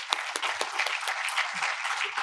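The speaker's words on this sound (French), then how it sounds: "On peut les applaudir encore une fois dans les groupes d'annonceurs." An audience at an advertising awards ceremony applauds, with a dense, steady round of clapping that carries moderately loud and close throughout.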